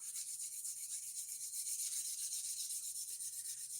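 Worn 400 grit sandpaper is rubbed by hand over a wooden surface in a soft, continuous hiss. The sound is quiet and close, with faint back-and-forth strokes and no talking.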